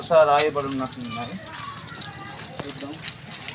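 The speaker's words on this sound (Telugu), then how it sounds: "టాయిలెట్స్ వాటర్ ఇక్కడ మొత్తం వేస్ట్ అయిపోతుంది" Water gushes steadily to waste from a tank beside toilets in a tribal village on the Andhra–Odisha border, a continuous rushing wash that follows a voice speaking briefly at the start.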